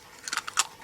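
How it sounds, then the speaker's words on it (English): A single egg cracked into a bowl for pancake batter: a few quick, close, crisp crunching taps of shell within under a second, with no talk. "Now I'm going to break an egg into it."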